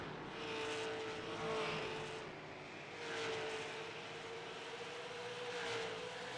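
Super Late Model race cars circle the New Smyrna track, making a steady, far-off engine roar that swells and fades slightly as the pack passes, with no voices.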